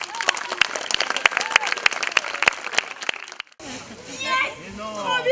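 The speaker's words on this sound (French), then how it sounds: "Super, on peut applaudir Martine, merci" A small group in a French collective claps together in a burst of scattered, lively applause for a few seconds before it stops and excited voices, including children's, break into chatter.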